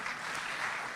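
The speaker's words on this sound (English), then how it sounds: "Please keep clapping." A brief, steady wash of audience applause fills a large hall at a business forum and exhibition.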